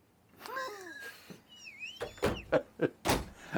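A full-extension drawer in a 2021 Holiday Rambler Endeavor motorhome rolls out on its runners with a soft sliding rumble and a few bumps, while a voice chatters nearby.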